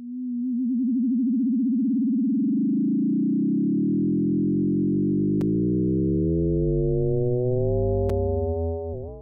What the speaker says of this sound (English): Notice that when the slower wave reaches audio rate, we no longer hear the pitch of the faster wave changing, but we hear its timbre changing.